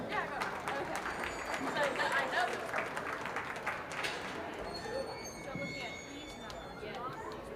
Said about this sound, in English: Let's give them a nice applause.